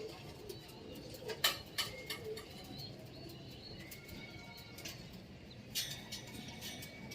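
Pigeon or dove cooing with several short bursts of wing flapping and a few chirps, moderately near, over a steady outdoor background hum at a racing pigeon training release in Sariaya.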